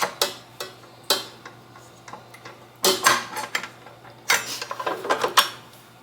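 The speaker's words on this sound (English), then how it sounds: "So I'm going to put in my paddle attachment" A paddle attachment being fitted onto a stand mixer before creaming butter and brown sugar, producing a series of sharp metallic clicks and clanks, loud and close, some single and some in quick clusters.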